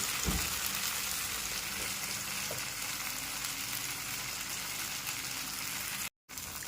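A thin wheat flour dhirde roasts on a hot pan, making a continuous even frying hiss that holds steady, with one brief dropout near the end.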